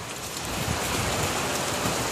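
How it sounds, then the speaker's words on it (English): Steady rain falling during a storm in Fort Worth, a dense even hiss of drops on surfaces that holds constant throughout. "Well, it's just rain, you know, and lightning and thunder and other things"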